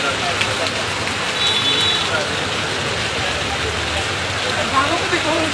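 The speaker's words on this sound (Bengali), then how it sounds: "প্রবল বেগে বৃষ্টি হচ্ছে" Heavy rain pours steadily over Maijdi town in Noakhali, a dense, even hiss that fills the whole stretch with faint traffic mixed in.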